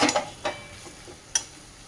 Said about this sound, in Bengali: এটাকে একটু ভালো করে কষে নেব মশলার সঙ্গে